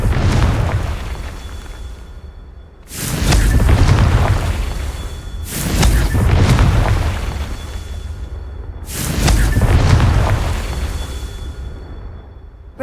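Repeated Confringo explosive spell blasts in the Hogwarts Legacy video game: three loud, booming bursts a couple of seconds apart, each with a sharp crackling onset and a long rumbling decay, over a steady low background.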